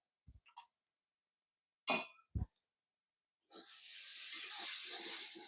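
Egg and onion frying in a pan, a loud steady sizzle that starts suddenly after a few short clatters and knocks and carries on to the end, with no talking.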